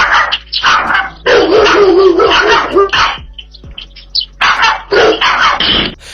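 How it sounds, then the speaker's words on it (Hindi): A small dog barks repeatedly at a bigger dog shut inside a cage, sharp yappy bursts in quick clusters, loud and close, with brief pauses between volleys. "ये डॉगी अंदर केज में बंद बड़े कुत्ते पर अपना रौब झाड़ रहा है"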